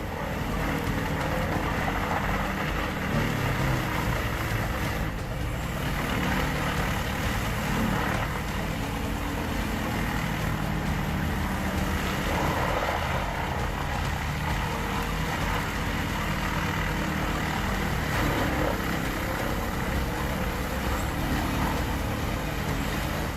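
A Force TR645D wood chipper, a 13,000-pound machine with a 213 horsepower engine, runs steadily with a loud, unbroken mechanical roar and grinding that holds constant throughout, with no voices.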